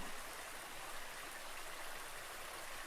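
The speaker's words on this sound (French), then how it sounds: "Juste le bruit de l'eau." Steady flowing water of a stream, a continuous broadband rush and babble that holds an even level throughout, with no voices.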